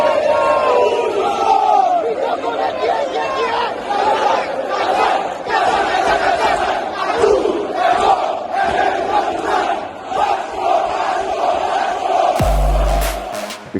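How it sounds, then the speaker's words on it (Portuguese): Vasco da Gama football supporters in Rio de Janeiro chant the casaca cry as a dense, loud crowd roar with rhythmic shouted surges throughout. "lá no Rio de Janeiro tem um grito parecido que é conhecido por casaca"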